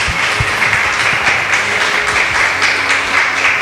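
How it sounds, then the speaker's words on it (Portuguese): A church congregation claps and applauds at a worship gathering, a dense, sustained wash of many hands from a crowd, loud and even throughout with no talking over it. "Vamos aplaudir o nome de Jesus mais uma vez."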